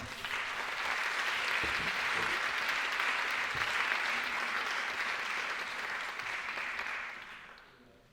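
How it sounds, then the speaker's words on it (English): Sustained audience applause as judges are invited on stage at the Dragon Challenge 2022 event, a dense, even roar of clapping that holds steady and then tapers off in the final second. "Give them a big round of applause."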